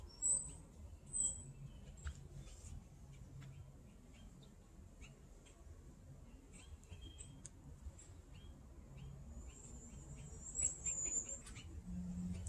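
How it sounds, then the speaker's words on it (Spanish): Faint, high chirps and short trills from small birds in a city garden sing off in the distance now and then over a quiet, steady background hum. "escuchar los pajaritos"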